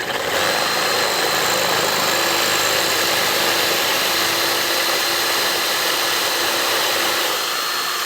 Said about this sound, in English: Drill it out a little bit more.